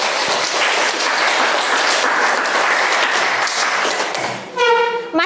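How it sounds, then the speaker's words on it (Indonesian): A classroom of students applauds themselves at the teacher's prompt, a dense, loud wash of clapping that holds steady and then fades near the end, giving way to a brief tonal sound. "Tepuk tangan untuk kamu dulu."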